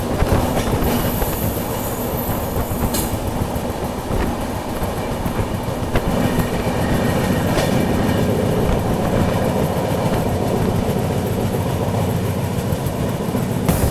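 An Indian express train, the Tirupati–Jammu Humsafar Express, running steadily with continuous loud rumble, rhythmic clickety-clack of wheels over rail joints, and occasional squeals, heard from inside a coach.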